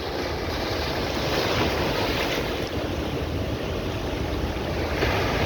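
Waves wash in steadily beside the jetty at Oistins beach, Christ Church, Barbados, a continuous loud roar of surf with wind buffeting the microphone and no pauses.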